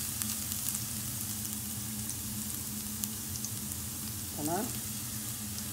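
Two garlic cloves sizzle in hot olive oil in a pan, a steady close crackling hiss, with a short spoken word breaking in near the end.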